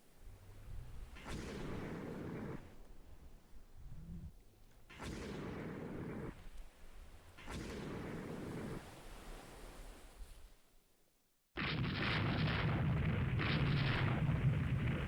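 Torpedo hits from the French ship Colbert in the Rule the Waves 3 naval game come as several heavy, rumbling blasts, each swelling and fading over a couple of seconds, followed by a louder sustained roar of sea and explosion.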